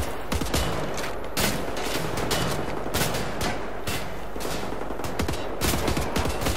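Rapid bursts of gunfire in the video game Wolfenstein: The New Order crack repeatedly, loud and close, with shots coming in quick uneven volleys and no talking.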